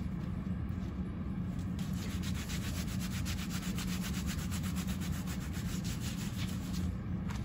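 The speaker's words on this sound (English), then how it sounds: "Rub it and mold it as it dries." A wet thumb spica cast being rubbed and molded by hand as it dries, giving a steady, close, continuous scratchy rubbing texture with rhythmic strokes throughout, no talk.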